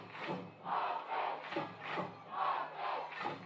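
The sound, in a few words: crowd noise at a football game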